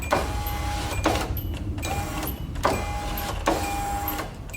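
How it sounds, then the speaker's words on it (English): Power window motors on a 2005 Hyundai Elantra running in repeated strokes, each a whirring electric drone ending in a clunk as the glass stops, close by with a faint steady background. "So the window motors are working."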